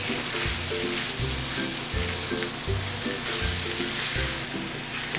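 Beef filling with precooked peas and carrots sizzles steadily in a pan as it is stirred, with a constant frying hiss throughout and a rhythmic low musical backing underneath.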